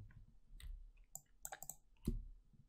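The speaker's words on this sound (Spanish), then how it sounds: "yo pulso F8, empiezo a pulsar F8" Keys pressed repeatedly on a computer keyboard while a Z80 assembly program runs, the F8 key struck again and again in a loose string of sharp, close clicks with one louder tap near the end.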